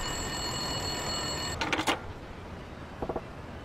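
A telephone in a phone booth in the video game Yakuza 5 rings in two short bursts of bright electronic trills, separated by a pause, over a steady background hum and a fading high tone.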